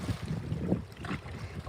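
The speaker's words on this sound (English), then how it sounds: "it's a little on the windy side" Wind gusting across a snowy reservoir during a trout fishing outing, a steady rough rumble buffeting the microphone throughout, with no voices.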